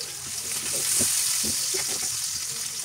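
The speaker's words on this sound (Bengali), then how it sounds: "দিয়ে দিলাম পরিমাণ মতো তেল, দিয়ে দিলাম কাটা পেঁয়াজ।" Chopped onion sizzles in oil in a pan, a close, even frying hiss with light stirring taps scattered throughout and no talking.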